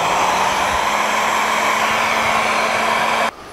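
A heat gun blows with a loud, steady whoosh and hum while shrinking tubing over fan wires for a 1949 Chevrolet gasser radiator, then cuts off abruptly near the end.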